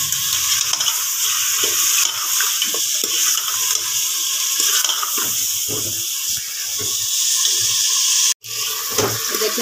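Desi chicken is stirred in a pot, the spoon scraping and sloshing through a wet sizzle in repeated strokes, close and fairly loud, with a sharp clatter near the end.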